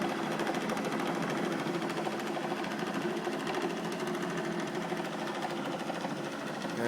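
A homemade Bendini rod motor dual flux generator runs with a steady, fast mechanical whir and rattle, continuous and close throughout, with no talking.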